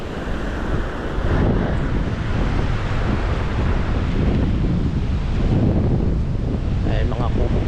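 Ocean surf breaks onto a sandy beach on the east coast of Lubang Island, a continuous loud rumbling wash mixed with heavy wind buffeting the microphone. A voice speaks faintly near the end.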